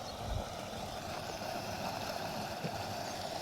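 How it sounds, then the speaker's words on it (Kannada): Water pours from a channel into a lake, a steady, dense rushing roar that holds close and even throughout, with no voices. "ಇದು ತೋರಿಸ್ತೀನಿ, ಈ ಥರ ನೀರೆಲ್ಲ ಬೀಳ್ತೈತೆ."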